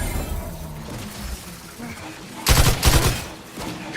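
A gun fires in the video game The Outer Worlds 2 in a loud, rapid burst of shots near the end, following quieter background game sounds.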